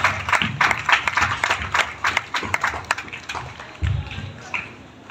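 A congregation claps at a Thanksgiving Mass, a scattered, moderately loud ripple of hands in a church hall that thins out toward the end.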